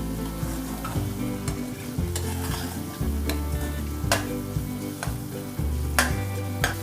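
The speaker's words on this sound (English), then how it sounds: "Now I'll saute this till the tomato is completely done." Tomato puree paste sautéed in a pan for a pointed gourd and potato curry, a steady sizzle broken by repeated sharp spoon scrapes and taps against the pan, close and clear, no voices.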